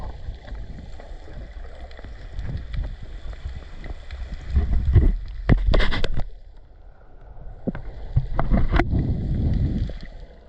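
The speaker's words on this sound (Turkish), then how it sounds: "bir rüzgar ve müthiş bir dalga var" Strong wind buffets the microphone as rough sea waves wash and crash along the coast at Akbük in Muğla, a continuous loud rumble swelling and easing across the stretch.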